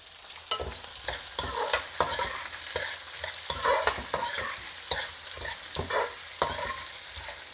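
Onions frying in a pan, stirred with repeated scraping strokes over a continuous close sizzle, the stirring clatter coming in a loose rhythm throughout.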